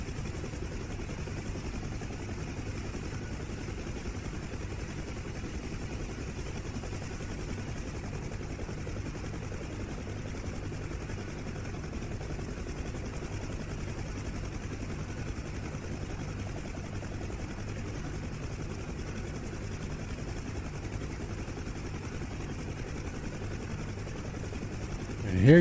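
A Huey UH-1 helicopter in the DCS World flight simulator sets down among trees, its steady loud rotor thump and turbine whine running throughout, close and continuous.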